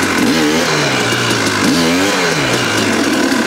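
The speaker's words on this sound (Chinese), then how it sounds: "我其实根本没有去加任何的油门，直接稍微给一点油它就起来了" A GPX 300 TSE two-stroke motorcycle revs with light throttle blips, the engine rising in pitch and falling back several times at close range, loud and raspy, with no talking.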